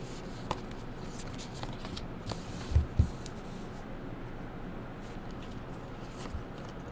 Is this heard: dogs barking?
no